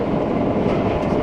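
A Vekoma SLC roller coaster with new trains, Mayan at Energylandia, rumbles and rattles along its track, a loud, continuous close-up roar heard from on board.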